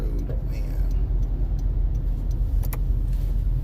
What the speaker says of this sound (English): I'm in heavy traffic here.